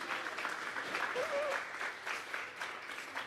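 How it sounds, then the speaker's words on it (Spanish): A church congregation at a Sunday service claps steadily and fairly loudly as an offering of praise to God, filling the room with sustained applause while a faint voice rises over it. "Vamos a regalarle ofrenda de palmas al Dios de la gloria."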